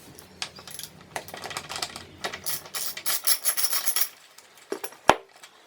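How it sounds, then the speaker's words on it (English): Rapid clicking and scraping from a wrench working a brake bolt loose on a Xiaomi electric scooter, close and fairly loud in irregular bursts, ending with a sharp metallic clink. "we have two bolts on each side that we're gonna remove"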